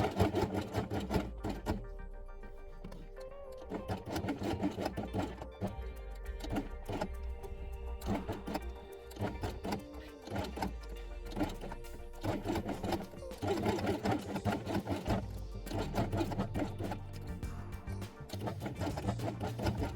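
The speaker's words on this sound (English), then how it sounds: "And sew blue element along the edge with blue thread." A sewing machine stitches a blue fabric element along its edge with blue thread, a steady rapid mechanical chatter running close and continuous with brief slowdowns throughout.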